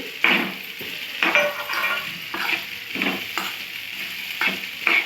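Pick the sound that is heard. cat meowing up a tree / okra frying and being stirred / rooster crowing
okra frying and being stirred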